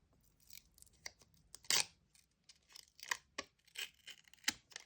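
Paper surprise packaging torn open by hand, a close, quiet series of irregular ripping and crinkling bursts with one louder tear in the middle.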